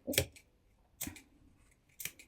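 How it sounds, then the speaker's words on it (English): Scissors snip into a trimmed fabric seam along a curve while sewing a summer blouse facing, three crisp separate cutting bursts about a second apart, close and clear with no talk. "now you're also going to snip into it"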